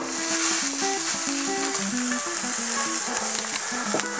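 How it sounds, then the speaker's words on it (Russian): Burger patties seasoned with pepper and salt sizzle loudly and steadily in a hot frying pan, a dense, continuous crackle with no talking. "Вперед на горячую сковородку."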